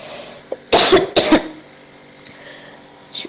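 Two harsh, close coughs in quick succession from a person with the flu, followed by quiet breathing and faint rustling.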